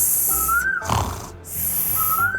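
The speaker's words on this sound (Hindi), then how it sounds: "सांबा शेर तो खर्राटे लेते हुए सो रहा था" A cartoon lion snores while asleep: two long, whistling snore tones with a rough, breathy snort between them, loud and close, with no speech.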